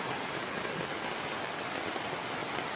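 Heavy rain pours steadily and loudly in a rainy-season outdoor setting, a dense continuous hiss of drops on surfaces with no voices.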